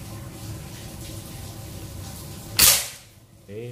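A single sharp shot from an AWM Classic PCP air rifle with a Monel OD27 barrel, pressurized to 4000 psi, cracks out loud and close after a low steady background hum, followed by a brief decaying tail and a faint mechanical click.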